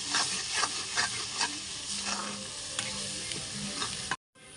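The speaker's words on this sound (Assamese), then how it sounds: "এতিয়া কাজু আৰু খিচমিচখিনি দি দিওঁ।" Cashews and raisins fry in hot oil in a pan, a continuous close sizzle with soft stirring strokes that stops abruptly just before the end.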